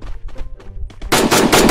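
Automatic weapon fire in the battle-royale game Free Fire: a few softer shots come first, then a loud, sustained rapid burst hammers close up and fills the rest of the moment.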